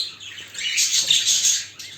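A parrot chirps near its nest box in a breeding aviary, giving a steady stream of thin, high tweets that swell and fade for about two seconds, close by and alone.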